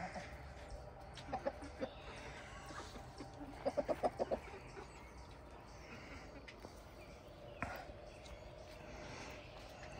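Chickens clucking softly at a distance, with a short burst of rapid clucks in the middle over steady outdoor background noise.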